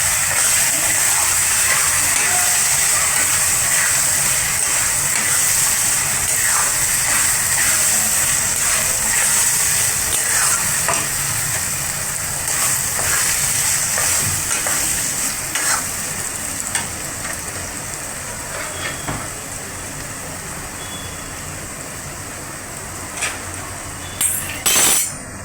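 Chicken frying in a pan with ground dry spices: a loud, continuous sizzle with bursts of stirring and scraping, fading somewhat toward the end, with no talk.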